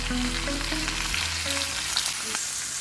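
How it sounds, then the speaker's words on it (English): Pork belly sears in a hot pan for a slow-cooked Christmas Eve dinner, giving a loud, continuous close sizzle with small crackles and no voices. "Now I've got to sear one side and then flip it over after you seared it"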